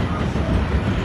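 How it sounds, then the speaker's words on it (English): A New York City subway train running express in the Bronx gives a loud, steady rumble and roar with continuous rail noise, heard from inside the car with no voices. "if you ever wonder how much time you save when the train goes express"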